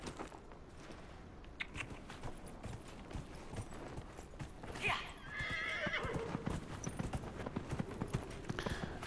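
In the video game Dragon Age: Inquisition, horse hooves clip-clop in a fast galloping rhythm, and midway a loud neigh rings out over the steady pounding of hooves.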